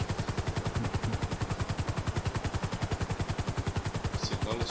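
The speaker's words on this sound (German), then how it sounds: "Das sind alles Schüsse." Rapid automatic gunfire rattles in GTA 5 Online, an unbroken fast string of evenly spaced shots that stays loud and close for the whole burst.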